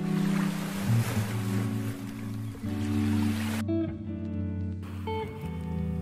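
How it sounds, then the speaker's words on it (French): Ocean waves wash onto a beach at Cap-Haïtien, a continuous surf wash with steady low tonal hum running underneath and a brief drop partway through, moderately loud and free of speech. "Les vagues dansent aux pieds des promeneurs."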